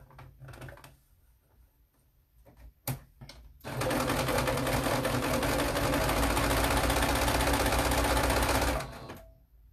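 Sewing machine stitching down the side of a fabric face mask, a steady loud whirring run of about five seconds after a few brief clicks and short bursts.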